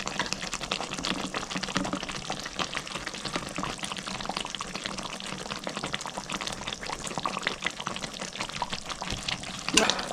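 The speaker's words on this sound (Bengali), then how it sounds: "আমি ওপর থেকে একটু সরষের তেল দিয়ে দেবো।" Fish curry in a pan, a Bengali jhal made with mustard and poppy seed, bubbles and crackles steadily after mustard oil is poured over it, a dense close sizzle with no talking.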